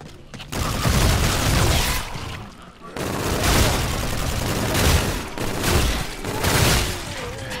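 Dense gunfire in Call of Duty: Infinite Warfare zombies mode, sustained rattling volleys with short breaks, loud and continuous under occasional voices.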